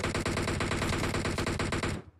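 Rapid automatic gunfire in the mobile shooter BGMI, a dense rattling burst of evenly spaced shots for about two seconds before cutting off.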